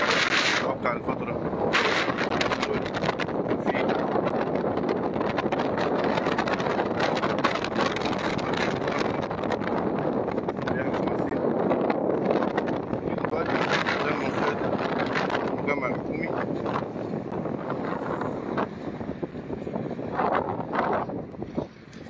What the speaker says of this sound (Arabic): الرياح بتشتد وبتهدأ